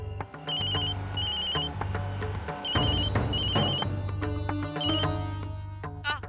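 A telephone rings with a repeating chirpy ringtone melody in steady bursts over a busy, continuous musical background, with no one speaking.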